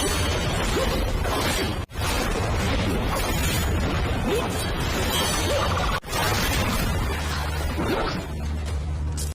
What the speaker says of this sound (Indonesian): Tembok akhirnya hancur.